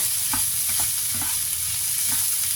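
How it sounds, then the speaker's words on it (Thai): Leftover larb fried rice is stir-fried in a pan, a steady close sizzle broken by regular scraping stir strokes, loud and continuous with no talking. "ผัดให้แห้งนิดนึง ผักให้แห้งนิดนึง"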